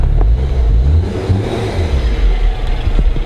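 Honda Civic Si engine revving hard and bouncing off the rev limiter, a loud close mid-pitched roar that climbs, holds and cuts repeatedly over about three seconds.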